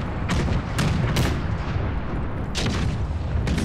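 Warship cannon fire in the strategy game Total War Empire, with several booming shots going off in quick bursts over a steady rumbling battle bed.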